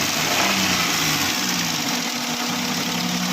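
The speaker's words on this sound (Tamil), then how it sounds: "வண்டியை ரேஸ் பண்ணி காமிக்கிறேன்." The engine of a 2003 Maruti Alto car runs steadily and close, a constant humming idle with a slight waver in pitch and no clear rise of revs, alone without talk.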